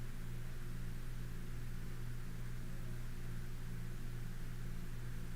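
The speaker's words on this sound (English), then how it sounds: "there's the fan. I can hear the fan." A room fan runs steadily, a constant broadband whoosh with a low hum underneath, unchanging and fairly faint, with no one speaking.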